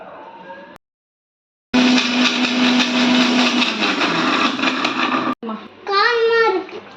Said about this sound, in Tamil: நம்ம அதுக்குள்ளே தேங்காய் அரைச்சிட்டு வந்துடலாம்